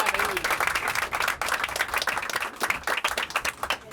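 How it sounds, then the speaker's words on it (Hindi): A live audience at an event celebrating Pakistan's women's under-19 cricket team bursts into dense, sustained applause, close and loud, with brief gaps and swells in the clapping. "ये तो आप लोगों की तालियां बताएंगे कि ये"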